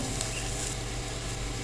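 Vegetables with shredded cabbage frying over a medium flame for macaroni samosa filling, a steady close hiss and crackle with faint stirring, no voices.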